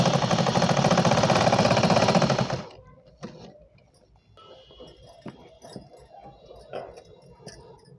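A sewing machine stitching a four-panel petticoat runs in a loud, fast rattling burst for under three seconds, then stops, leaving faint fabric handling and small clicks close by.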